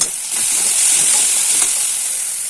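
Fish sizzles steadily in a hot pan, a dense, even hiss of frying that holds nearly constant from start to finish with no voices.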